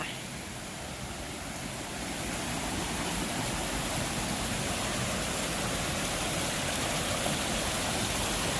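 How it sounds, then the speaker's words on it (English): A creek rushes continuously nearby, a broad steady hiss of flowing water that swells a little after the first couple of seconds. "Creek goes this way."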